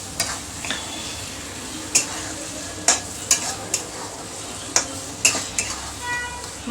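Masala being mixed in a pan while cooking stuffed brinjal for a dal-rice meal, with a soft background sizzle broken by sharp scraping clinks of a spoon against the pan at irregular intervals.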